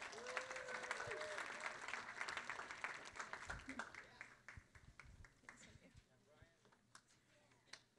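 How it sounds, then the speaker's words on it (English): Steady applause from a crowd fills the opening seconds, then thins into scattered claps that fade out beneath background murmur. "so let's give them a round of applause"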